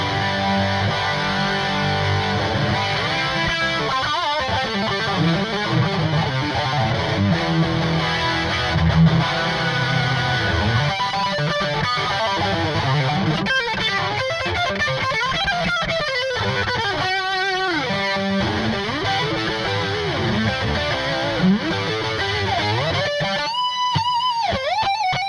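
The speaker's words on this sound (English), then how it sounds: "With a lot of distortion and a lot of reverb" A Gittler T2 guitar, with a metal body, maple neck and ebony fretboard, is played through heavy distortion and lots of reverb. It sustains a dense, steady, loud stream of overdriven notes and chords for the whole stretch, with no talking.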